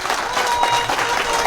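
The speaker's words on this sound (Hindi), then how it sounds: "एक बार जोरदार तालियां" A crowd applauds loudly and steadily at a political rally, a dense wash of clapping that carries on throughout.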